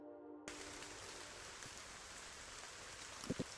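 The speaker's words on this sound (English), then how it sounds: "It's raining." Steady rain falls in a video game scene, a continuous close hiss of drops with a few soft taps near the end, and no one speaks.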